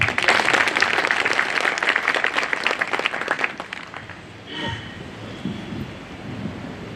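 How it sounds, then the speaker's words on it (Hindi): Dense applause from an audience at a Bar Council enrolment meeting in Delhi, loud and full for about three seconds, then thinning and dying away into low room noise with a brief knock. "जोरदार ताली भाई"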